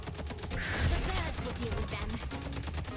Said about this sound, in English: you become a flying minigun whose bullets do an insane amount of damage in flight